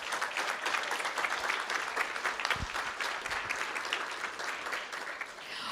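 A school board meeting audience gives a dense, sustained round of applause for a parent and students, steady and fairly close throughout, tapering slightly near the end.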